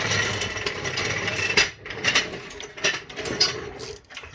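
Wrench ratcheting on the wastegate fittings of a car turbo, a close run of short metallic clicks and grinding turns with brief pauses between strokes.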